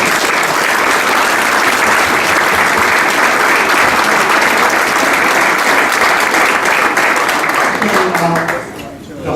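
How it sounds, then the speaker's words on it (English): Loud, dense applause from a conference audience thanking bowling coaching panelists, sustained steadily for several seconds before tapering off at the end. "a round of applause for our panelists"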